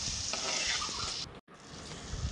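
Crushed shallots, green chillies and curry leaves sauté in hot oil, giving a loud, close, even sizzle that briefly drops out midway and then picks straight back up.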